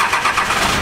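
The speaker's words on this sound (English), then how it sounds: "we're gonna start the truck up." A Mordecai 12 valve pickup truck engine cranking and catching, quickly settling into a loud, close, rough idle with no talking over it.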